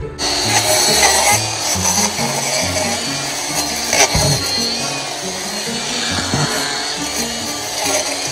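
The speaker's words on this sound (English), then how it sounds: "get the saw out and" A hand saw cuts through branches along an overgrown outdoor trail, with continuous close rasping and rubbing strokes and occasional knocks.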